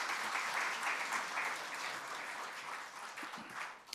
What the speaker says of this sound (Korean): 앉으실 때 크게 박수하겠습니다